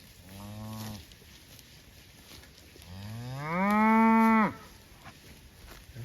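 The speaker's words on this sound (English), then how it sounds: "There's a cow bawling for a calf." A cow bawls for its calf in a pasture on a quiet evening, giving one short low moo and then a longer, louder rising bawl that cuts off abruptly, close by.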